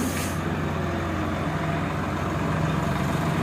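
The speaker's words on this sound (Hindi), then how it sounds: "तो ट्रैक्टर से खेत जुतवाया जाता है" A tractor engine runs steadily while ploughing a village field, a loud continuous low diesel drone with a brief higher hiss at the start and no voices.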